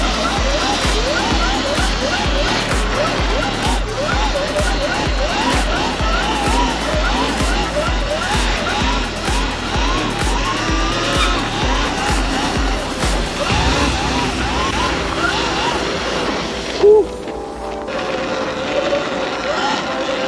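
A Surron electric dirt bike drifts across icy winter ground in daylight, tires scraping and hissing in a continuous rough wash that shifts with the throttle, then a brief louder jolt near the end and a quieter tail.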